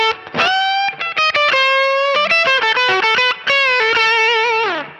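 Electric guitar notes picked with the pointed tip of a pick, each one struck with a sharp, precise attack, played as a fast run of single notes with a slightly driven tone, up close and with no talk.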